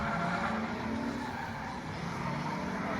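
A stock Nissan 240SX drifts on a track, its engine droning loudly and tires squealing in a continuous smeared wail across the short stretch, with no talking.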